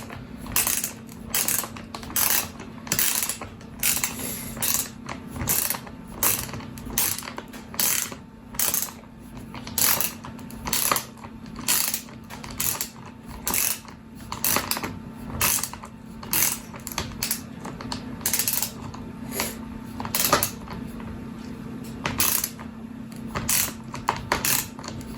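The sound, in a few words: wrench tightening nut on threaded rod for battery assembly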